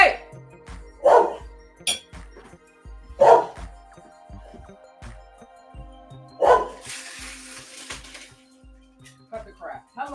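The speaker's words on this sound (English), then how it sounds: "You be real angry, little ass angry dog" An angry small dog barks in sharp, separate bursts close by indoors, with a few yips and whimpers between them and someone talking over it.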